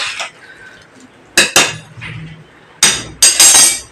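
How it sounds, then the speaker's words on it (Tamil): A metal lid set over a pot of mushroom biryani rice with ghee, giving two sharp clanks close up, followed by another pair of bright metallic knocks as it settles. "ஒரு கலரிட்டு மூடிடுங்க."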